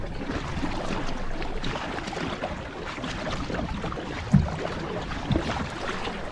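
A proa paddled at sea off Cape Rodney after the wind has died, with steady water wash and wind rush throughout and two distinct paddle splashes near the end.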